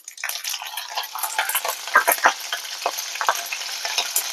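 Cumin, mustard seeds and green chili fry in hot oil for an Indian okra dish, giving a steady close crackling sizzle with sharp pops and spatters throughout, no voices.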